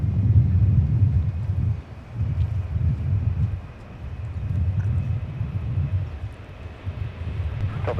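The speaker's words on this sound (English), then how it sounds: "We're going to have a C-17 Globemaster 3 come in as well." A C-17 Globemaster III jet arriving at Minneapolis airport, heard as a loud, steady low engine roar with wind buffeting the microphone, swelling and easing over several seconds.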